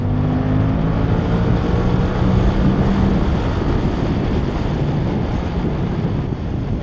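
Suzuki GSX-8TT motorcycle pulling hard in fourth gear, a steady loud engine drone with rising harmonics early on, then a dense rush of wind buffeting the microphone throughout.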